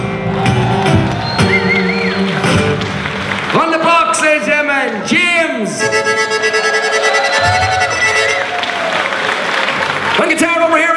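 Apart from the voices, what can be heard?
audience applause at an Irish folk festival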